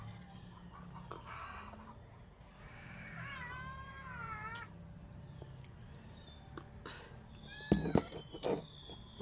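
Two pet cats meow for breakfast in the morning, their rising and falling cries spread across the middle of the clip amid quiet household noise, with chickens and roosters faintly audible in the background.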